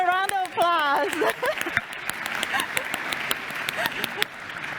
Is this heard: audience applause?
yes